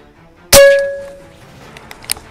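An air rifle pellet strikes a metal target with one sharp, loud clang that rings on with a sustained metallic tone and fades over about a second, followed by a few faint ticks.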